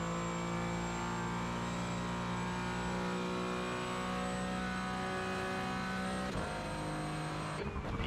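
An Aston Martin sportscar engine in iRacing drones loudly and steadily at high revs, a sustained tonal roar that shifts pitch near the end as the car brakes or changes gear.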